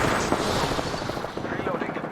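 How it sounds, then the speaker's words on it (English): Rapid gunfire cracks in Apex Legends, a dense burst of automatic shots aimed at the player, fairly loud and close, running continuously for about two seconds. "Shots fired at me."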